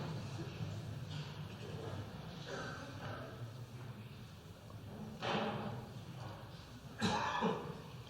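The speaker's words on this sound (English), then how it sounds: "would you mind stop coughing?" Scattered coughs and throat clearing rise from a crowd in a quiet hall, with two louder, nearer coughs standing out toward the end.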